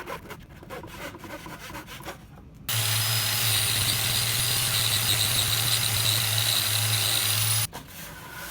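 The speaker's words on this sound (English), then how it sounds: "I have to drill those holes out a little bit deeper" A power drill bores 3/8-inch holes deeper into a wooden workbench in a makerspace. It runs as one loud, steady whine for about five seconds, starting and stopping abruptly, with quieter handling noise before and after.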